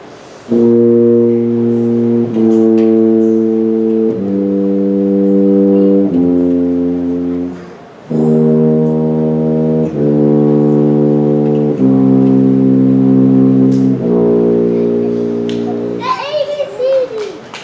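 An Air Force band plays with a tuba carrying the bass line: loud sustained brass chords in steady blocks that shift pitch every couple of seconds, with a short break midway before the ensemble resumes.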